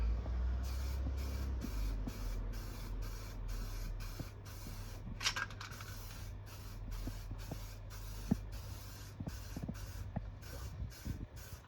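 A rattle can of spray paint coats a Harley Benton DIY guitar kit in short repeated hissing bursts, about a dozen evenly spaced sprays, close and clear.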